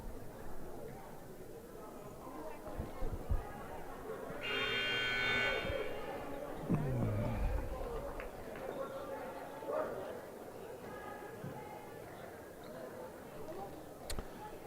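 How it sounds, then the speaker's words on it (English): A brief electronic buzzer ends a timeout at a high school boys' basketball game in a gym, amid crowd chatter and background noise, lasting about a second before fading into the murmur. "There's the buzzer."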